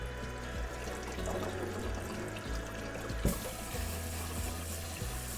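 Black beans being rinsed under running water, a steady pour and trickle with a few soft knocks as the beans shift, close and continuous with no talking.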